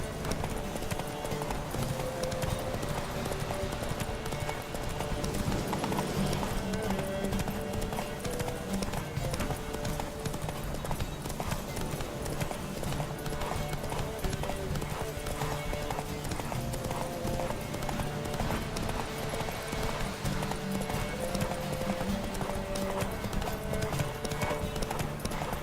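Horse galloping in a race in the video game The Witcher 3: steady, rapid clip-clop hoofbeats throughout, with occasional whinnies and faint voices under a continuous game soundscape.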